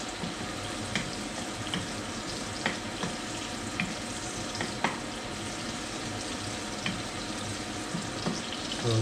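Food sizzling in a hot wok, a continuous dense crackle and hiss at moderate level with a few faint clicks scattered through, no voices.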